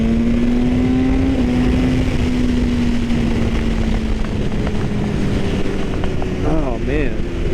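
A BMW HP4 motorcycle is ridden with a loud, steady engine drone under heavy wind rush, pitch shifting slightly as it cruises, while the rider talks over it.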